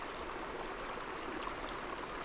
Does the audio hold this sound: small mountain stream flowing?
yes